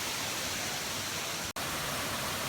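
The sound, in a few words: large waterfall in Laos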